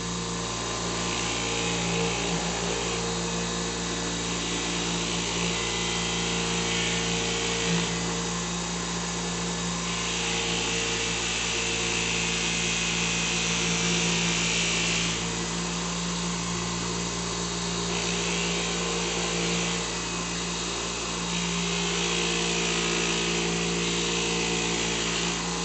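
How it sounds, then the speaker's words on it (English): Harbor Freight 8-inch bench grinder with a grinder wheel buffing scale off a knife: a continuous loud motor whine with a steady tone, the pitch and grind shifting slightly as the blade is pressed against the wheel. "Scale, and we'll just buff that off. We're using grinder wheels because my buffing wheels aren't here yet."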